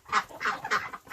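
Egg-laying farm ducks give three loud, nearby quacks evenly spaced over about a second, followed by a softer fourth call, with no voices.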